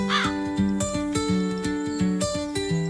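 A crow caws in a Malayalam children's animation, with a series of short, regularly spaced calls over a rhythmic musical backing.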